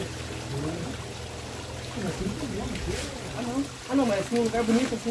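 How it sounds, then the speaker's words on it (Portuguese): A waterfall rushes with strong, steady force. The broad, continuous roar of falling water runs beneath people talking throughout. "Aqui é a cachoeira. Aqui, ó. A água, ela vem com força."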